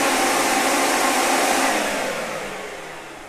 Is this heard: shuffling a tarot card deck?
no